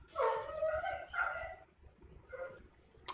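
A dog barking and howling in a video game, with a few drawn-out, tonal barks over a low rumbling game background, fading near the end.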